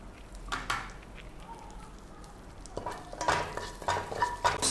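Cumin seeds and a bay leaf dropped into melted butter in a hot pan, a short burst of crackling sizzle with spoon stirring and light clinks against the pan, close and moderately quiet, no voices.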